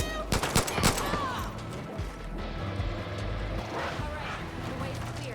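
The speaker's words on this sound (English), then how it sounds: "Who's shooting me?" Gunfire in the video game Far Cry New Dawn, a cluster of sharp shots early on followed by scattered bangs and rumbling action sounds, fairly loud and close.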